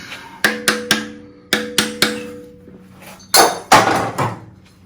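Hammer taps on a part of a 40 hp air-cooled Volkswagen engine during a VW Bus engine rebuild: several sharp metallic strikes, three, then three more, then two heavier ones, close and loud, with no talk.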